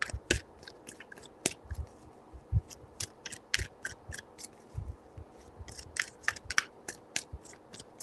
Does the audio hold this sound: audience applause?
no